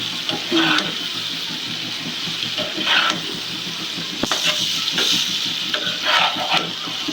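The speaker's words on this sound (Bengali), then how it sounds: "এইভাবেই কিছুক্ষণ ভাবি কষিয়ে নিবে" Dried fish (shutki) sautéing in a pan for a Sylheti bhuna, a steady close sizzle with a few brighter scraping stirs and light background clatter, with a voice talking faintly now and then.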